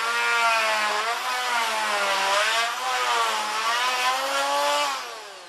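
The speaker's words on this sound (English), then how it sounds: "Here's my multi-tool, and this is a great tool for trimming out things like this." Oscillating multi-tool trimming out a wood lap joint, a loud steady high-pitched buzzing whine that sags and rises in pitch as the blade bites into the wood, running continuously without talk.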